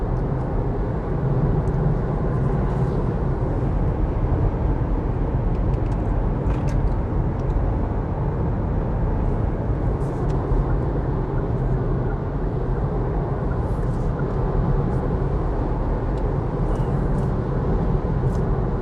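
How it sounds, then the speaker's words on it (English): Steady broadband road and tyre rumble inside a 2022 Kia Niro EV 64 kWh on the move, a constant loud cabin drone with no engine note and no voices. "this car is actually quite noisy"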